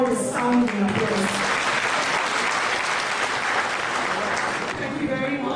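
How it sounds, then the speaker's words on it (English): Sustained applause from a large crowd, steady and loud throughout, with a few voices faintly audible early on. "I think he deserves a more resounding applause."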